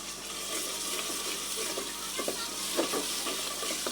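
Onion frying with ginger garlic paste and chili powder gives a soft, continuous sizzle, with a few stirring scrapes in the second half. Nobody speaks.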